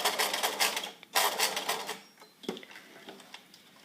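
Domestic sewing machine stitching the corner of a one-piece collar, running in a loud, steady burst, pausing briefly, then resuming in a second run before slowing to a few softer, separate stitches near the end.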